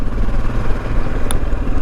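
A Royal Enfield Himalayan motorcycle rides along with a close, loud, low engine rumble and rushing wind, steady for the short moment apart from one brief click.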